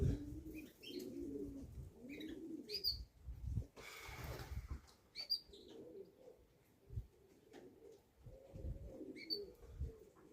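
Racing pigeons coo in a loft, low rolling throaty calls repeating steadily alongside a few soft chirps and a brief burst of wing flaps partway through, close by and without talk.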